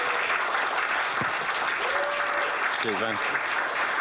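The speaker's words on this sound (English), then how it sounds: "please give him a huge round of applause" Audience applause for a guest speaker, a dense, steady wash of clapping through the whole stretch, with a voice briefly speaking over it.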